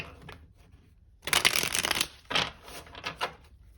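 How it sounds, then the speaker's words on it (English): A deck of tarot cards is shuffled close up, a soft riffling burst followed by a few shorter rustling shuffles. "Okay, I'm going to do one last shuffle"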